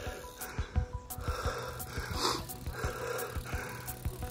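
Heavy, rhythmic panting and snorting breaths from a person just after cycling, close and loud, with ragged irregular bursts and no speech.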